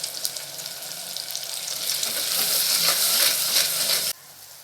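Onion paste sizzles and crackles in a hot pan for fish kuzhambu as it is stirred, the frying hiss building louder before cutting off abruptly, with no voice.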